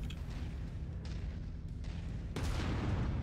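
A dropship takes fire in MechWarrior 5, with dull booming impacts and rumbling blasts, a sharp louder explosion near the end, all under a constant low drone.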